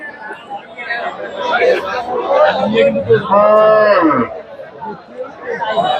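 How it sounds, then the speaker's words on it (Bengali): Beef cattle at a busy livestock market, a loud close moo rising over steady crowd chatter and voices mid-way, with people talking throughout. "বেশ সুন্দর সুন্দর কিছু মাংসের গরু দেখা যাচ্ছে আমাদের এই হাটে"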